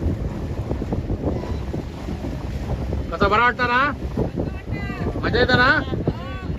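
A small boat rocks on sea waves during a dolphin safari, with wind buffeting the microphone and steady water and engine rumble throughout, while people chat aboard over it.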